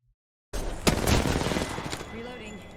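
Gunfire in a shooter video game bursts in after a moment of silence as a rapid fusillade of shots, loud and close, then fades into scattered trailing fire, with a voice talking faintly.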